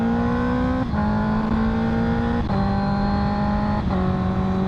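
A Honda motorcycle's engine hums steadily while riding, with three quick clean upshifts marked by brief dips in tone, loud and close with continuous wind noise.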